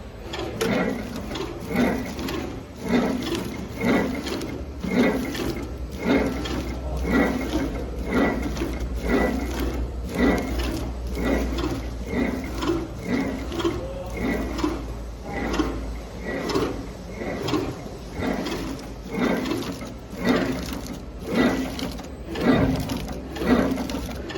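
An epoxy putty stick pillow bag packing machine runs with a fast, steady mechanical clatter, repeating rhythmic clicks and thumps over a constant low motor hum.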